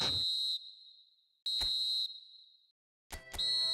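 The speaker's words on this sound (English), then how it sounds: "Added time is up, and there goes the whistle." A referee's whistle in an eFootball match sounds as a long shrill blast, then a second blast and a final short double toot, loud and clear with no voices.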